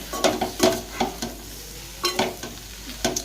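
Goat blood fry being stirred in a pan, a Telangana dish, with rhythmic scraping strokes of a spoon against the pan in bursts over a soft, steady sizzle, close and without talk.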